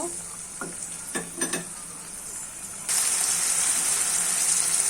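Spices and salt being mixed in a frying pan for an egg curry: a few light scrapes and taps of stirring over a soft sizzle, then the sizzle suddenly swells into a loud, steady hiss.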